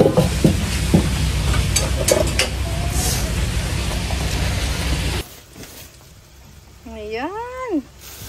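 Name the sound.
washing small crabs in water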